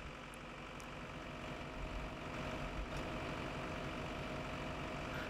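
A tractor engine idles in Farming Simulator 15, a steady low rumble with a faint mechanical whine that holds even and unbroken, with no voices.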